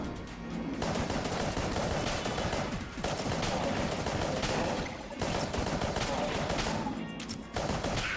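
Weapons firing in Enter the Gungeon, loud continuous fusillades of rapid gunfire broken into several sustained bursts separated by short pauses.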